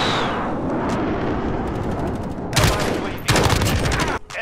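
Heavy rumbling gunfire and booming bursts from a VTOL gunship killstreak in Call of Duty Modern Warfare, loud and dense, with two sharper barrages near the end and faint talk underneath.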